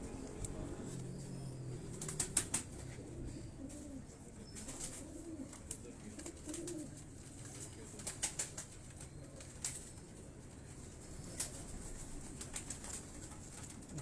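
Pure teddy pigeons, a mixed breed of three or four lines, coo softly nearby while wings flap in several quick bursts, faint and intermittent against a quiet loft background.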